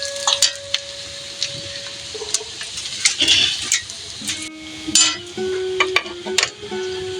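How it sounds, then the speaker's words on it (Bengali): Onions frying in a pan for a village-style jackfruit curry cooked like beef, giving a steady close sizzle with scattered clinks and scrapes of stirring. "পেঁয়াজটা আমার ভাজা হয়েছে, দেখতে পাচ্ছেন।"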